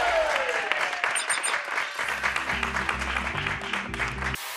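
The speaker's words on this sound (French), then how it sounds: "Applaudissements." Studio audience on a French television show breaks into applause, a dense steady wash of clapping, loud and sustained, with a low musical tone entering underneath partway through before cutting off abruptly.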